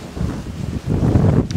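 Blizzard wind gusts outdoors, blowing snow past a microphone in a buffeting, rumbling roar that swells and dips, then surges harder toward the end.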